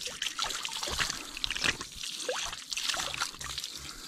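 Spring water trickling and splashing steadily from the ground nearby, a continuous bubbling flow with no voices.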